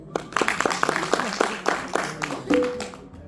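Applause at a group presentation during an orientation course, a few loud, distinct claps near the mic with a short tonal note near the end and a voice briefly audible.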